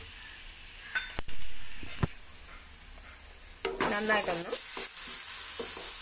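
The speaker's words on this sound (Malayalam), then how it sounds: "ചൂടായിട്ടുണ്ട് എണ്ണ, നമ്മൾ ചതച്ച് വെച്ചിട്ടുള്ള" Crushed spice paste hits hot oil and sizzles loudly for a few seconds, with stirring and scraping in a pan, after some quieter kitchen clatter; someone speaks briefly.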